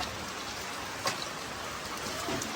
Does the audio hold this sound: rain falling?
yes